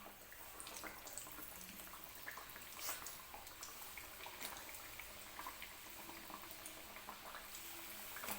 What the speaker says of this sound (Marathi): तोपर्यंत मी आणखीन खारी या तेलामध्ये सोडून घेते.